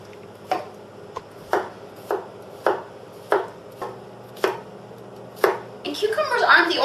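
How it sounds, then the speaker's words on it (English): A knife slices small cucumbers into quarter-inch rounds on a cutting board, producing about nine crisp, evenly spaced chops close by, followed by a brief rustle of handling at the end. "So I'm going to cut them into, like 1/4-inch slices"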